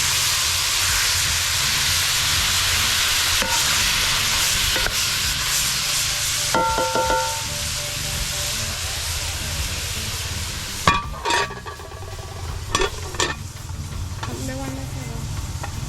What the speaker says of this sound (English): Level it in our pot and give it a stir to prevent it from stick